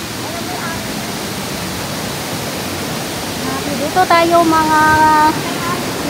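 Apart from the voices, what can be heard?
river water flowing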